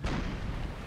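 Cannon firing canister shot at extreme range during an American Civil War battle game, heard as one loud, close blast that booms and rumbles for almost a second.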